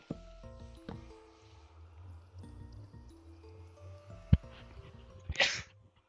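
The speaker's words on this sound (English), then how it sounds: "I thought I was having a sneeze attack for a minute." A single sharp human sneeze during a quiet indoor livestream, followed by a short breathy burst, close and loud against a low background hum.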